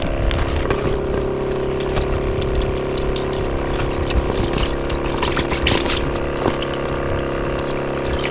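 A compact battery-powered backcountry water pump hums loudly and steadily while water gushes through its hose in a constant stream, close up and without talk.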